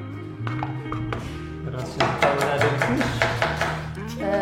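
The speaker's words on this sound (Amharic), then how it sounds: "ሽንኩርት አከታተፍ" A knife chops onions on a cutting board in a home kitchen, a run of sharp, close, rhythmic taps that quickens midway, with talking and faint background tones.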